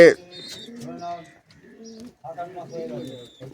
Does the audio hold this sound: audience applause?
no